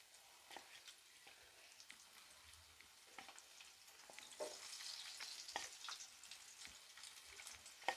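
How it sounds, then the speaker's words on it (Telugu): Food deep frying one piece at a time in hot oil, a faint, steady crackle and sizzle with scattered pops that gradually thickens, no voices. "నెక్స్ట్ ఇప్పుడు ఆయిల్ పెట్టుకొని డీప్ ఫ్రై చేసుకోవాలి."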